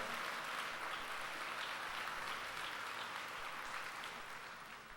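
A church congregation applauds during a sermon, giving dense, continuous clapping heard from a distance, quiet but steady, tapering slightly at the close.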